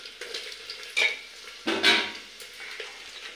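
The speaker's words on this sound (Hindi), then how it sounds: "दोस्तों मैं प्याज काट ली हूँ, अब डालने जा रही हूँ तेल में" Onions sizzle steadily as they are stirred in oil in a pressure cooker, with a few louder scraping bursts and light utensil clatter, close by.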